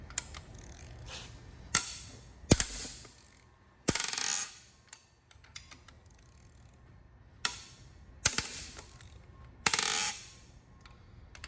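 Ratchet loosening cylinder head bolts on a Hyundai Genesis Coupe 3.8 V6 during an engine teardown: six short bursts of rapid close metallic clicking, separated by pauses filled with quiet shop handling noise, with no talking.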